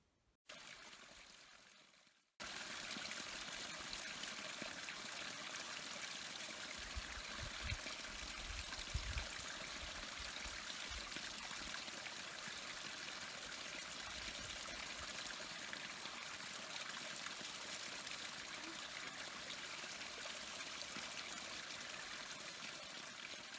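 Drinking water poured through a purifying filter, a steady broadband trickling and streaming that runs continuously and fairly loud after a brief quiet start, with no talk.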